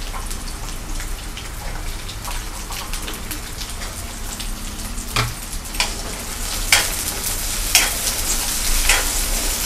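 Peas, carrots and potatoes fry in a pan for a dry vegetable dish, giving a continuous close sizzle with occasional sharper crackles and stirring clicks toward the end.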